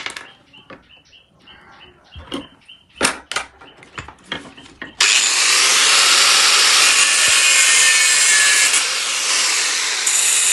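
Hand saw cutting through wood to make a motor base for an egg incubator tray; scattered knocks and scrapes first, then a loud, steady sawing rasp that runs continuously for the last half, close up.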